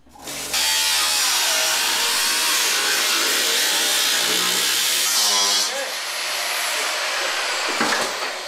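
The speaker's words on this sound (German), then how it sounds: "Mit schwerem Gerät machen sich die Schrauber daran, den BMW in der Mitte durchzuteilen." Heavy power tools cut a BMW 3 Series in half, making a loud, sustained whining and grinding roar that runs almost unbroken for about eight seconds.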